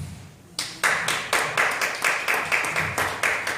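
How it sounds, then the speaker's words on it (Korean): Church congregation clapping to welcome a pastor at a prayer meeting, a group clapping in unison with a steady, rhythmic beat of sharp, even claps, close and loud. "여러분 다 같이 박수로 맞이하시겠습니다"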